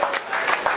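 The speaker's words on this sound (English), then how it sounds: "a big round of applause for Janet" Fundraising event audience applauding, a short burst of loud, dense clapping from a crowd with faint voices mixed in.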